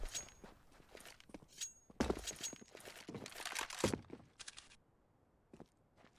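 Quick footsteps on Dust 2 in Counter-Strike, a run of close, rapid steps mixed with thuds and game noise that stops abruptly near four seconds, followed by a quieter tail.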